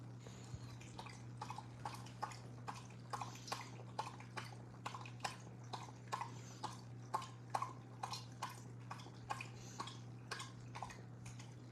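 A dog named Bo laps water from a person's cupped hand, a steady run of quick, wet licking clicks repeating close up for several seconds over a low background hum, with no talking.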